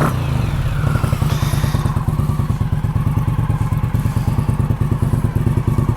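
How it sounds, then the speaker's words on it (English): A 2019 Indian Scout Bobber Sixty-Nine cruiser with a 1133 cc, 100-horsepower V-twin idles close by, a steady, loud, rapid pulsing thump that carries on alone for the whole stretch. "Indian Scout Bobber. It's the 69, has 1133 cc's, 100 horsepower, 73 foot-pounds of torque."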